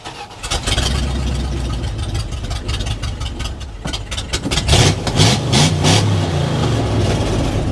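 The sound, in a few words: old Dodge Adventurer 4x4 engine running and revving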